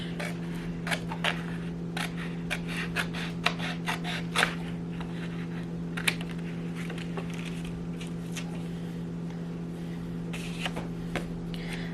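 Crisp, irregular snips of scissors cutting paper, close and moderately loud, over a steady low electrical hum.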